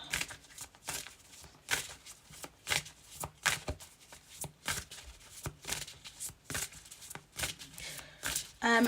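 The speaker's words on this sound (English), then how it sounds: "Let's give these cards a good old shuffle." A deck of cards being shuffled in repeated quick riffling bursts, crisp and close, with a few brief pauses between shuffles.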